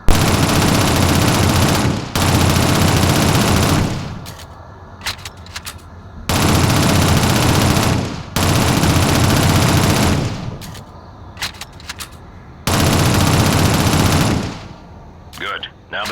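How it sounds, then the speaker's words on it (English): Submachine gun fire in the Shadowrun video game: loud, sustained automatic bursts of about two seconds each, separated by short gaps filled with softer clicks and clatter. "Use your SMG to clear it now."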